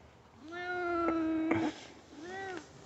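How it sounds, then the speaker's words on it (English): A house cat meows twice nearby indoors, a long drawn-out tonal meow followed after a pause by a shorter one, with a faint bump between. "Cat just came and got on my lap."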